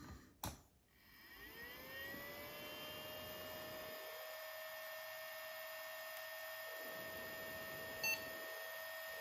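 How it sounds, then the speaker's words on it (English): Pentium 200 MMX desktop computer on a cold start, a short click at power-on followed by steady fan whir and a faint high electronic tone from the machine, quiet and close, with no talking. "that's the beep of the computer posting"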